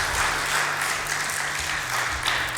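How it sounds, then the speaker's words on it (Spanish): Applause fills a church service as the congregation claps for the Lord, a dense, steady wash of many hands close by that carries on without a break for the whole stretch. "Denle un aplauso al Señor"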